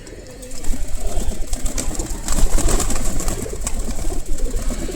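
Pigeons in a backyard loft in winter coo softly and repeatedly amid a busy, rustling background of wings and movement, with low rumbling noise underneath.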